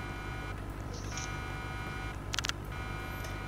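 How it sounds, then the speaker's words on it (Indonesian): An alarm in the Roblox game Break In sounds as short electronic beeps, one brief tone early and a quick cluster of bright pulses later, over a steady hum of game background. "Alarm is going off."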